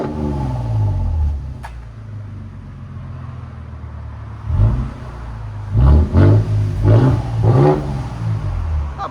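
A 2026 Toyota Tundra 1794 Edition with a 3.4L twin-turbo V6 and muffler delete idles with a deep rumble, then gives several sharp, loud throttle blips in quick succession, close by.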